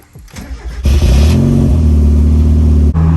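A drift car with a slipping clutch cranks briefly, then its engine catches and settles into a loud, steady idle close by, with a small dip near the end.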